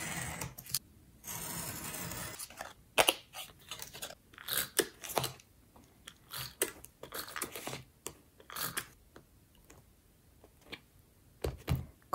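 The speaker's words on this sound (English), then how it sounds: "This one is obviously a bit too big, so I'm gonna trim it down." Scissors snip around a vinyl sticker, trimming about half a centimeter off its edge, with a run of close, crisp cuts and rustling of the sticker, paused by brief gaps; no one speaks.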